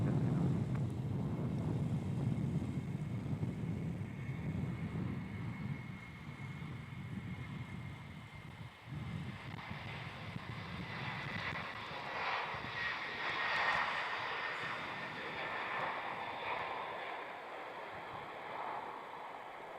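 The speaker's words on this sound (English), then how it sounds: "Qantas 35, Airbus A330, powering down runway 34, heading for" A Qantas Airbus A330 powering down runway 34 at Melbourne Airport on takeoff, a loud sustained jet engine roar that shifts upward in pitch as it passes, with wind noise on the microphone.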